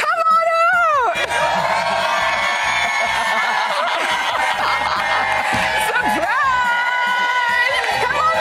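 A live crowd at a TODAY Show surprise cheers and whoops loudly and continuously, with laughter and chatter mixed in, while a presenter talks over the noise.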